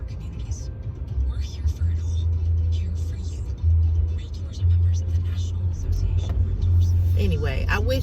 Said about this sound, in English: I was looking at this bus. I'm like, where are you going? I'm like, don't hit this car.